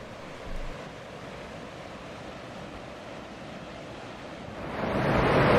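River water rushes steadily through a small runnable chute on the Shawanaga River, a broad continuous roar of whitewater that swells louder near the end, with light wind buffeting the microphone.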